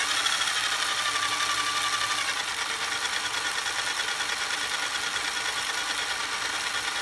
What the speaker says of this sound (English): These straight cut gears are always going to be loud.